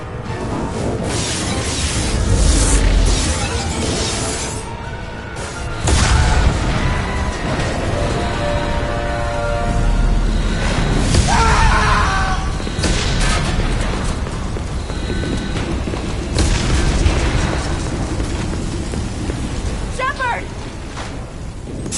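Explosions and crashing booms rumble through heavy background noise as a starship comes under attack in Mass Effect 2, with urgent shouted voices over the chaos.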